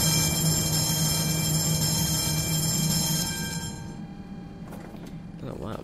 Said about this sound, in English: It's a tram. It can just plow to everybody on the road.